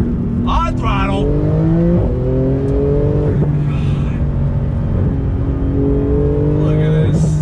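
A Porsche 911 GT2 RS accelerates hard on throttle, its engine note climbing steadily through the gears with brief dips at shifts. The engine sound is loud and close, and someone talks over it.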